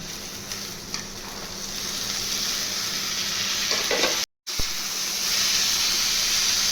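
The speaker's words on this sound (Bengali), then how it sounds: "পেঁয়াজের সঙ্গে ভালো করে মিশিয়ে ভাজবো" Onion and chopped beans stir-fry in a pan over a high flame, giving a steady, close sizzle and hiss with scraping stirs throughout and a brief silent break partway through.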